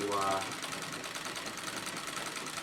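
Rapid, steady stitching from a sewing machine quilting white denim, running evenly and close throughout, with a short voice-like sound at the very start.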